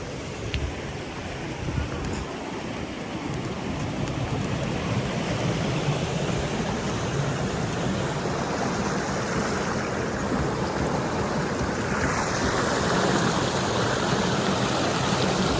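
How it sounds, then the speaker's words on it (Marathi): River water rushing steadily past at Walankund, a natural rock-formation site where the stream joins a larger river, forming a dense, continuous wash that stays loud and close for the whole stretch. "इथे पाणी पण वाहतंय."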